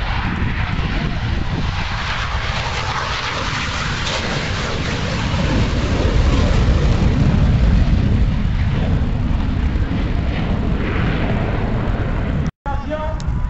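A propeller aircraft roars loudly overhead at the Val-d'Or air show, swelling to a peak in the middle before easing off, with a steady deep rumble throughout.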